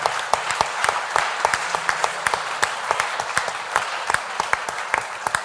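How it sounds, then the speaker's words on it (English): Conference audience clapping for the interpreters, a sparse, moderately quiet applause of distinct individual claps spread across a large hall. "Applause to them,"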